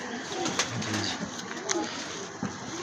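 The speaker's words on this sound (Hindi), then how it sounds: "ये देखें जी, ये कबूतर है" A pigeon coos softly nearby amid rustling and faint background noise, with a few brief sharper sounds scattered through, at a home pigeon loft.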